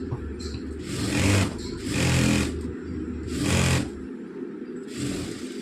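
A sewing machine stitches chudithar fabric in loud, close bursts of rapid mechanical whirring, with four runs of stitching separated by short pauses.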